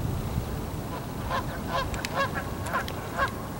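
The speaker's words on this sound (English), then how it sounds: "But right now it's mostly Canada geese." Canada geese honking on a large pond, with a few mallards nearby; a series of scattered honks at moderate distance over steady outdoor background noise.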